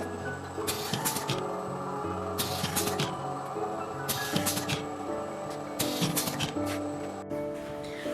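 A manual paper tube crimping machine runs with repeated bursts of bright clanking and hissing strokes about once a second, over a steady mechanical hum in a workshop.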